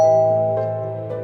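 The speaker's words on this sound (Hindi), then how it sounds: "तभी दरवाजे की घंटी बजती है।" A house doorbell chimes once: a clear, ringing tone that fades slowly, with faint re-strikes of the chime.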